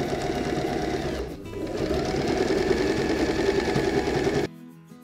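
A sewing machine runs in a steady loud whir while stitching lace trim onto a dress, dipping briefly before resuming, then cutting off abruptly near the end.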